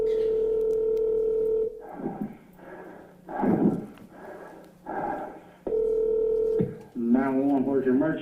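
Telephone dialing tones placing a call, a steady tone followed by stepped dial bursts and a final tone, loud and close, with some speech-like tones mixed in.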